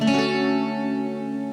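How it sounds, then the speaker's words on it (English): A single strummed chord on a freshly strung twelve-string guitar, after a second tuning, rings out bright and in tune, sustaining evenly as it slowly fades. "after the 2nd tuning, it now sounds like this"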